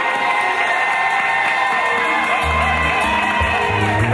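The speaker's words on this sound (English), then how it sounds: "why don't we give clap offering to Jesus this morning?" A church congregation at a welcome service cheering and clapping, a loud continuous roar of crowd noise with shouts and whoops, while music plays underneath throughout.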